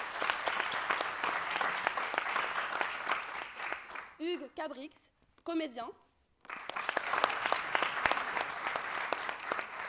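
Applause from an audience at an improvisation theatre performance, steady clapping that breaks off while a voice speaks alone, then resumes strongly.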